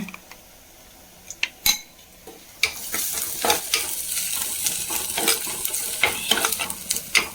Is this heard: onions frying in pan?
yes